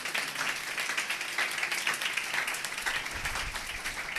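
A crowd at a Christmas gathering of a Christian evangelist's meeting breaks into steady, full applause that holds at an even level throughout, slightly distant.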